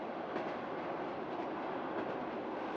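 Steady interior rumble of a long-distance train ride to Romania, continuous broadband wheel and carriage noise with faint rhythmic clatter, quiet and even throughout with no talking.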